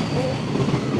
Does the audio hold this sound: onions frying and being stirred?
no